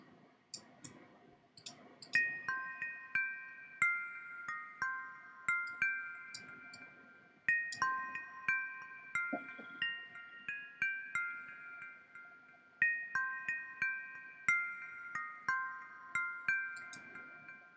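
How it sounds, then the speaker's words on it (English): Bright, bell-like glass marimba notes play a repeating descending pattern, each strike ringing out with a washy reverb tail and echoing delay repeats. "this combination of reverb and delay on the glass marimba sound"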